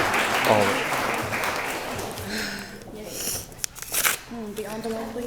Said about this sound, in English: Extra round of applause for the best maid of honor.